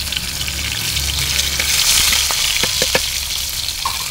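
Rohu fish frying in hot oil in a rural Bengali kitchen, a loud continuous sizzle and crackle with scattered sharp pops and spits, close and steady throughout, with no talking.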